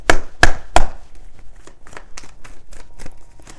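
Quick papery riffling: three sharp bursts close together, then a run of lighter flicks and taps at a steady pace, close by.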